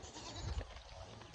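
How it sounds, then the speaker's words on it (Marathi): A goat on a farm lets out one short, faint bleat, heard alone over quiet outdoor background. "आमची शेळी."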